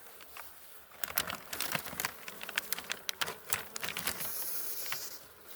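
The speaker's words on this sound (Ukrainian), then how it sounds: "тут жменька бджіл залишилася" Honeybees buzz close by amid a flurry of soft clicks and taps as colonies are merged in winter, the busy hum rising and falling in irregular bursts.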